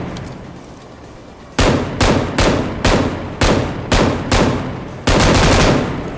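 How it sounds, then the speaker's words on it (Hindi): Game gunfire from BGMI: about nine loud, sharp shots in a broken rhythm, single cracks followed by a closing burst, rising out of a quiet game background with no talk. "तो मैं जैसे ही इसके ऊपर फायर करता हूँ"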